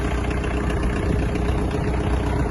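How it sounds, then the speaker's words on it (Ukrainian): A Kubota X-20 mini tractor's diesel engine starts and runs at a steady idle, loud and close, with a continuous low rumble and no voices. "Давайте заведемо даний трактор."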